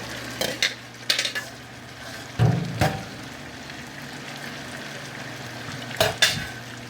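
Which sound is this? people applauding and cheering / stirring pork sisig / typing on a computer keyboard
stirring pork sisig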